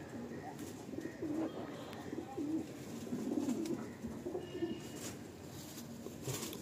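Madrasi pigeons, young females among them, coo softly in a loft, a faint, uneven run of low calls with some background chirps and a voice now and then.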